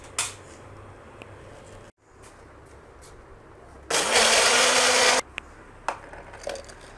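Kitchen blender whirring as it blends peaches with milk, sugar and cashews into a shake, a loud steady roar starting abruptly after a pause and lasting over a second before cutting off, surrounded by quieter clinks and handling noises.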